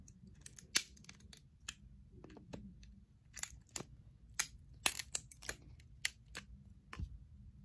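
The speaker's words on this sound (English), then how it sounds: "So I think I'm gonna start with the wire cutters" Wire cutters snip through a plastic figure base, giving a series of sharp, close crunching clicks at irregular intervals with quiet pauses between.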